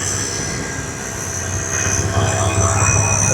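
A freight train rolls over an iron railway overbridge in Ahmedabad, heard as a loud, steady rumbling roar with a faint high whine, swelling slightly as it continues, with no voices.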